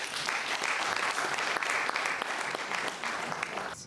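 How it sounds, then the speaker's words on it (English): Lecture-hall audience applauds after a talk on conflict analysis and negotiation, brisk dense clapping for about four seconds before cutting off abruptly. "can we clap for him again?"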